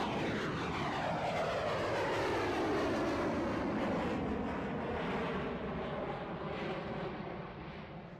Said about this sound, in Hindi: गोवा के आसमान में हवा को चीरते हुए आगे बढ़ रहा है सुपरसोनिक जेट